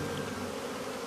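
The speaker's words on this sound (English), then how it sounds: "specialize in safely removing bee swarms from residential areas, honey farming, and per my special request" Dense, steady buzzing of a bee swarm, a continuous drone that holds at an even level without pause or other sounds, as if close to the listener.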